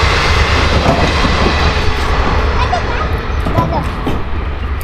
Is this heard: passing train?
yes